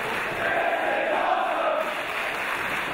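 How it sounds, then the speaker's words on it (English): A large wrestling crowd roars in a steady, dense wall of cheering that stays loud and unbroken throughout, heard from within the arena with no clear voice on top. "And listen to this crowd, Dave"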